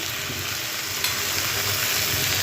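Potatoes tumble into chicken frying in a pan for a home-cooked chicken dish, giving a steady, loud, continuous sizzle with a brief extra crackle as they go in; no voices.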